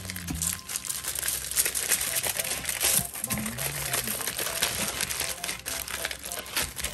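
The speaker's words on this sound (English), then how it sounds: "I love to roll it up in the aluminum foil." Aluminum foil crinkled and rolled tightly around a mac and cheese burger burrito, a dense continuous crackling and rustling up close, with brief low voice sounds mixed in.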